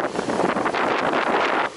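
Steady Baltic Sea wind at Svetlogorsk buffeting the microphone with a broad rushing roar, likely waves washing underneath, continuous and fairly loud for under two seconds.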